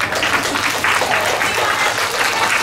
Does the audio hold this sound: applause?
yes